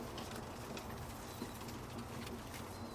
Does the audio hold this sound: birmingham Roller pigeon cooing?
yes